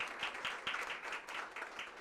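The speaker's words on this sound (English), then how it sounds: "Can we have a round of applause for the young man himself?" A seated audience at a Mumbai business roadshow applauds, a fairly quiet, even patter of many hands that holds steady, with faint speech underneath.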